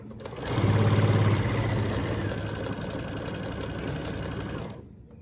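A sewing machine runs continuously, stitching binding onto a Grinch quilt, with a fast, even mechanical whir and needle chatter, loud and close for about five seconds before stopping abruptly.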